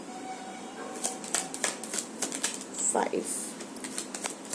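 Tarot cards are drawn one by one from a deck in a series of quick, close papery slides and snaps. A person counts aloud over the cards.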